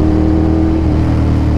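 A Ducati Monster 696 motorcycle engine revs loudly and steadily up close, a continuous mid-pitched roar with no voices over it.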